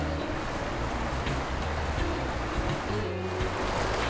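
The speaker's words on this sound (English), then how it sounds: "certainly it's a flowing river through here" Flowing water of the Pascoe River on Frenchman's Track in Cape York Peninsula, a continuous broadband rushing wash that stays loud and steady throughout.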